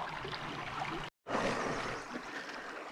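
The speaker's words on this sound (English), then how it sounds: "Creek water." Creek water flows steadily beside a mountain bike route, a continuous close broadband rush and trickle with a brief dropout near the middle before the flow resumes.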